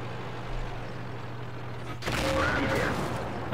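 Tank cannon fire in World of Tanks during KV-4 gameplay, where a sharp shot cracks out about two seconds in over a steady engine rumble, followed by a rougher, louder wash of battle noise.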